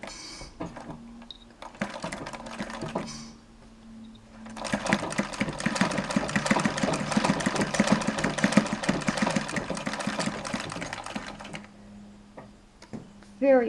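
Singer treadle sewing machine with a spring coil belt, first a few soft starting clicks, then a steady fast mechanical chatter running close for several seconds before slowing and stopping.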